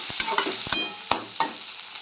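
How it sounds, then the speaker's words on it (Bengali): Torn bread pieces stir-fried in a pan, with a soft continuous sizzle broken by sharp scraping clacks of the spatula turning them at irregular intervals, close and clear with no voices. "ওলট পালট করে সুন্দর করে ভাজা করব।"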